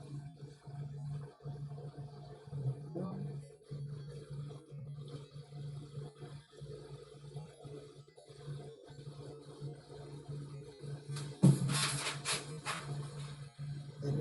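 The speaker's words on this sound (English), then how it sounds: "The noise you heard was Flip Flop jumping onto the desk" A cat lands with a sudden thump, jumping onto a desk, followed by a short burst of rustling and scraping, heard once against a steady low hum in a quiet room.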